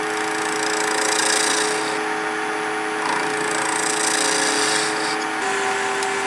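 A wood lathe gouge shapes a bead on a turning spindle, giving a steady, close, scraping hiss with a faint motor whine beneath, unbroken for several seconds and with no talking.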